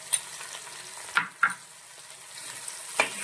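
Chopped okra is sautéed with salt in a pan, a soft continuous sizzle broken by a few sharp scrapes and taps of a spoon against the pan.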